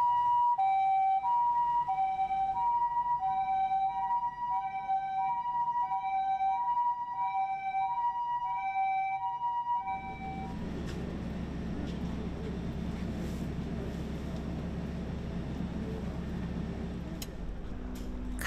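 An ambulance siren during a disaster-preparedness drill in Fujiyoshida, Japan, wails in a steady repeating two-tone pattern, then cuts off and gives way to a loud engine rumble and background noise.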